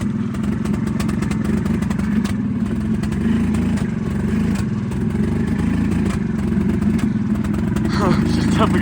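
A 1987 EZGO three-wheeler golf cart engine runs steadily at a loud, close idle with a buzzy, uneven putter throughout, the carburetor needing work.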